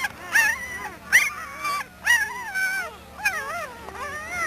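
Several high, wavering whimpers from a litter of twelve puppies come in short bursts with brief pauses, close by, over a faint low hum.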